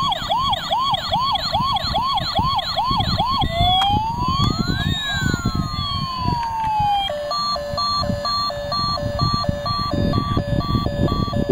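A toy ambulance siren cycles through wailing, yelping and hi-lo tones, loud and close, over a steady background hum, with no voices.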